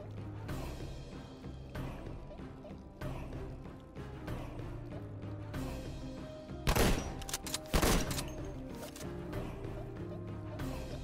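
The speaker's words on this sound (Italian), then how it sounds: "Questo è grosso, quindi fa una esplosione immensa." Two sharp, loud bursts of an in-game explosion from Worms Battlegrounds, with a large weapon blast, rising from steady game music and background effects, each brief and crackling.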